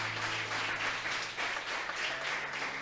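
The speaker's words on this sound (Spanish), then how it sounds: "Alguien le dé un aplauso a Dios por esto" A church congregation applauding during a Spanish-language sermon, a dense, continuous wash of clapping held at moderate distance throughout.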